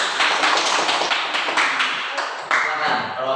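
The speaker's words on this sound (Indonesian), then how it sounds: "Tepuk tangan dulu untuk kelompok 1." Loud, dense clapping from a roomful of students in a classroom, steady and close, sustained for a few seconds.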